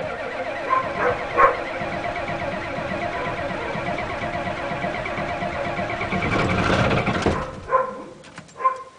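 A Ford diesel engine is cold-started after sitting for five months, cranking steadily and laboring to turn over for several seconds before catching rough, with a few irregular bumps near the end.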